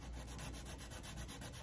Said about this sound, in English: This is a patching compound that I'm sanding off gently to make it level with the chest.